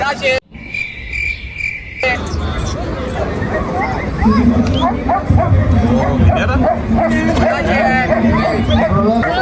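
A dog barks and yips repeatedly amid people talking at a pet show in Faisalabad, with insects chirping steadily in the background.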